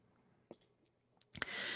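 Computer mouse clicks on a Build and Run button: a few sharp, close single clicks spaced apart, followed by a sudden rising hiss of fan-like noise near the end.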